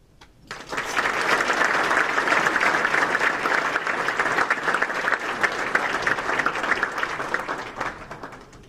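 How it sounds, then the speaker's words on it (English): Sustained applause from a dinner audience at a baseball first-pitch banquet, building quickly after a brief pause and holding steady, dense and fairly loud, for several seconds before easing slightly. "Give him one more round of applause, please."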